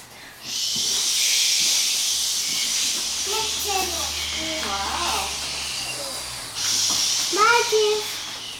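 Children make a sustained breathy hissing "shhh" to imitate wind in leaves, with bits of young voices calling out in the middle and near the end.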